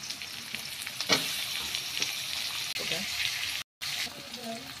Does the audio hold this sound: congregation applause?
no